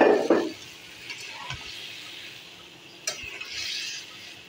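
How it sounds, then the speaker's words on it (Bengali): Vegetables drop into a hot frying pan with a brief loud hiss, then a faint ongoing sizzle with a few utensil clinks and scrapes. "এখন দিয়ে দিচ্ছি সবজি।"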